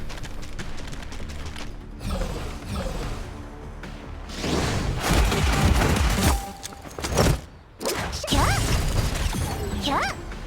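Grenade blast and gunfire in the video game GFL2 Exilium, a loud mix of repeated crashing bursts, whooshes and mechanical clatter, with a big burst near the middle and a short break before more shots.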